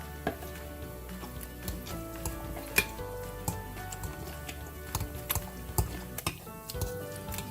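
Yogurt rice with grated carrots being stirred and mixed in a bowl, giving soft wet squelches, scrapes and spoon clinks in an irregular rhythm, close and moderately loud, with no voice over it.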